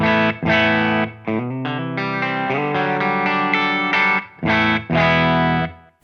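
Clean electric guitar chords and single notes ring out through an amp, bright and close, with several brief pauses between strummed phrases.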